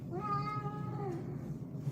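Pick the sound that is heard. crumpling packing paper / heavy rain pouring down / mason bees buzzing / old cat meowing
old cat meowing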